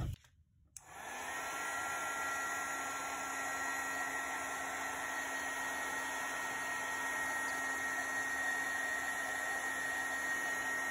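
A heat tool blowing hot air onto inked cardstock, clicking on and then holding a loud, steady, close whirring hiss with a faint whine, no voices.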